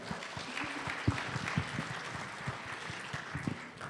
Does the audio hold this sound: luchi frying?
no